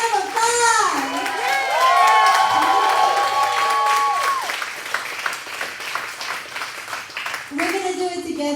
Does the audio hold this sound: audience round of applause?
yes